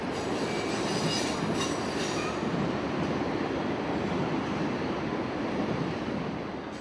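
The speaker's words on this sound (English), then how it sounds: "you can hear why this is Amtrak's premier train" An Amtrak Auto Train with auto racks passes about 30 feet from the tracks in Sanford, Florida, a loud sustained roar and rumble of rail cars with a hint of wheel squeal, fading slightly at the end.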